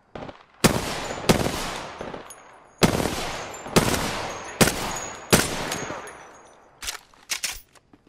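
Gunfire from the online battle royale shooter Warzone: several loud, sharp bursts and single shots land at uneven intervals, each cracking out and decaying quickly, with a quick flurry of closer shots near the end.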